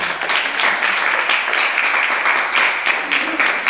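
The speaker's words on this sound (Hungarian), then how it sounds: "szeretnék egy nagy tapsot kérni" An audience at a jazz concert claps together, a dense burst of many hands clapping, steady and fairly loud throughout.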